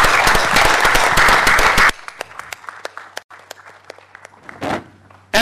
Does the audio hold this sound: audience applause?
yes